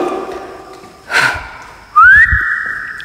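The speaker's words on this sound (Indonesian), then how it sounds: "Sekarang gua coba main siul dulu, teman-teman ya" A person whistles during a night visit to a reputedly haunted house in Bandung, giving one loud, sharp rising whistle that holds as a steady tone after a brief breathy noise, clear and close.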